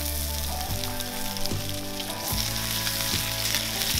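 Bacon fries golden on a griddle over an outdoor fire pit for an American-style breakfast, giving a steady, close sizzle and crackle throughout, with a low tonal hum running underneath.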